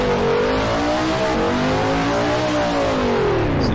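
A car engine revs steadily and loudly while drifting in the Drift Crew video game, its pitch rising and falling in smooth sweeps with a faint tire hiss underneath and no talk.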